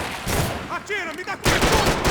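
Rapid bursts of gunfire from the video game Max Payne 3, loud and close, with a short pause before a heavy burst, mixed with a voice talking.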